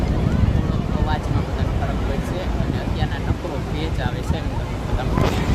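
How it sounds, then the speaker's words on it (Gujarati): Strong wind buffets the microphone over surf at the Porbandar seashore during a Krishna Janmashtami fair, with faint crowd voices and chatter scattered in the background. "પવનનો અવાજ બહુ વધારે હોવાથી"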